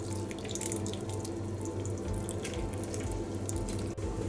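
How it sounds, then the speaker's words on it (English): Juice from a whole orange is squeezed by hand into dried cranberries and raisins for hot cross bun dough, producing a steady, close stream of liquid splashing and trickling that runs without a break and has no talk over it. "So now I will be squeezing 1 full orange juice"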